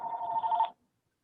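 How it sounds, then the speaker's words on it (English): A telephone rings once with a bright electronic trill lasting under a second, then cuts off into silence. "That phone is not nature."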